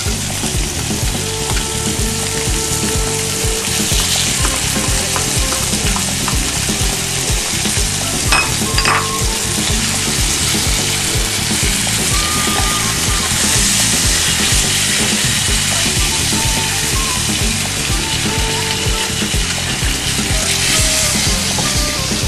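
Mushroom chicken with cream of mushroom is stirred in a hot pan, producing a loud, continuous sizzle and bubbling hiss with occasional utensil scrapes, close and steady throughout.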